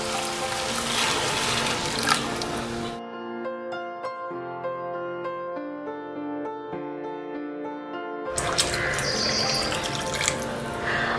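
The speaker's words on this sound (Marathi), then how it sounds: "तर इथे मी जवळपास 2 ग्लास पाणी ऍड करणार आहे।" About two glasses of water are poured into a pressure cooker holding fried sprouted horse gram, giving a loud splashing rush that pauses during a tonal stretch and then resumes.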